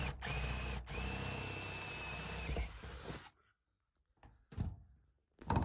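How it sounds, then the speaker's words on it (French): A power drill boring holes near the ends of a board during a camper van conversion, a sustained loud whir for about three seconds, followed by quiet knocks and handling thumps. "j'ai donc percé 4 trous aux extrémités"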